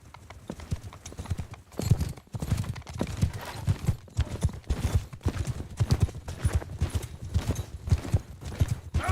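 Horse hooves clip-clop steadily in a video game, a continuous rhythmic trot of close, prominent thuds lasting throughout.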